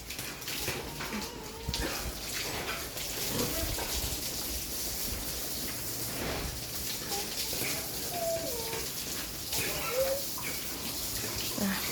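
A baby is bathed at home, with continuous close water splashing, pouring and dribbling that runs throughout, joined by intermittent sloshes and a few small cries, while an adult speaks softly over the water now and then.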